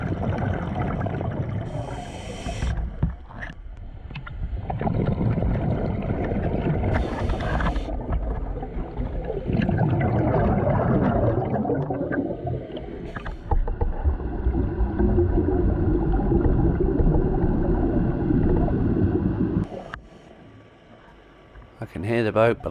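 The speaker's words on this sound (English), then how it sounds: "I can hear the boat, but I can't see it." A boat motor drones steadily, heard underwater on a scallop dive, muffled and growing louder as it passes, with bubbling noise around it and no clear talk.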